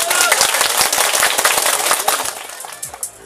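Guests in a wedding hall break into a loud, dense round of applause, many hands clapping rapidly at once, then thinning out and tapering off over a few seconds.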